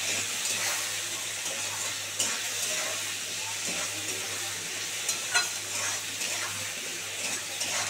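Spices with salt and turmeric fry in an oiled pan, giving a steady close hiss and sizzle with occasional light stirring clicks and small spatters, continuous and even with no talk.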